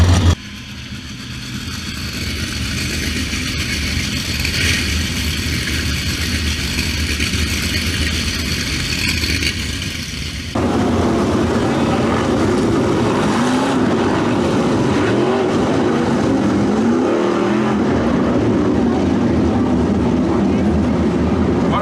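Sprint cars in a 305 Sprints A-Main at Attica Raceway Park roaring down the front stretch, a loud sustained engine drone that swells abruptly into a dense, close pack roar, with an announcer talking over it.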